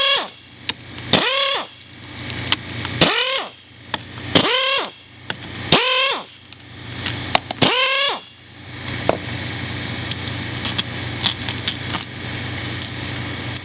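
A ratchet on a 13mm socket works loose the bolts of a Sanden automotive AC compressor, giving five close, distinct bursts of clicking spaced about every one to two seconds, followed by quieter shop clatter.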